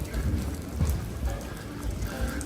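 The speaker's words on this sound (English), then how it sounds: "So continuing to brave this rain." Steady rain falls on a Costa del Sol street while someone walks through it, a continuous dense patter with low rumbling beneath and no talking.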